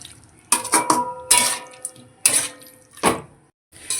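Fried prawns and potatoes with spices being stirred in a pan: intermittent scraping and clattering bursts of utensil against cookware, separated by short quiet gaps, with no talking.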